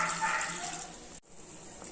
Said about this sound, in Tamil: இப்போ நம்ம 1 டம்ளர் தண்ணி ஊற்றிக்கலாம்.